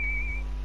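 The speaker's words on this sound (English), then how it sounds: "Ref, blow that whistle." A football referee blows a single sustained whistle, a bright, clear tone lasting under half a second, loud and close with no voices over it.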